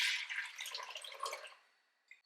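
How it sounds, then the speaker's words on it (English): Milk pours into a saucepan in a home kitchen while a lasagna is made from scratch, a soft, close liquid splashing and trickling for about a second and a half before tapering off, followed by a faint clink. "Get it poured into here."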